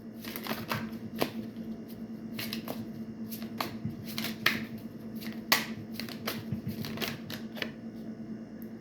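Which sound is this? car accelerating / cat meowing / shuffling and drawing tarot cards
shuffling and drawing tarot cards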